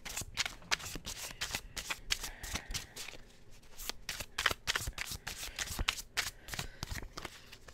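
Zodiac oracle cards being shuffled by hand, a rapid series of crisp, close riffling snaps and flicks in irregular bursts, with no talking over them.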